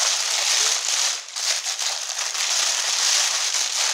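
Paper packaging from a Disney Store parcel crinkles and rustles continuously as it is unwrapped, a close, loud, crackly texture with a brief dip partway through.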